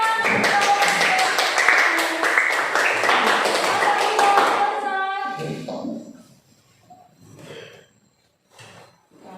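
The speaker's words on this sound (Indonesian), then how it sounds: "Iya, tepuk tangan." A class of students clapping hands together in a religious-education lesson, a rapid, dense patter of claps lasting several seconds before tapering off, followed by a few quiet sounds and a brief voice.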